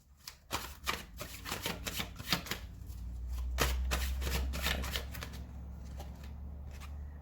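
Tarot cards are shuffled by hand before one is drawn, giving a run of quick riffling slaps and soft flutters up close, busiest early on and easing off toward the end, with no one speaking.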